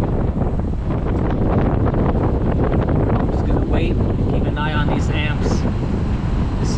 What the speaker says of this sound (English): Boy, is it windy out here.